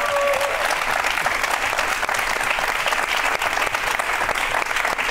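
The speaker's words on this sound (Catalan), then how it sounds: "Ens agradaria molt... molt un aplaudiment" An audience in a television studio applauds a performed song with dense, continuous clapping at a steady, moderately loud level throughout.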